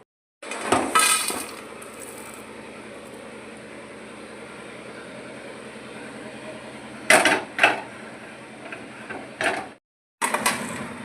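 An electric grinder pulverises roasted Kolkata-style biryani masala spices, a loud steady whirring rattle that runs for about nine seconds with a few harsher surges, cuts out briefly, then starts up again.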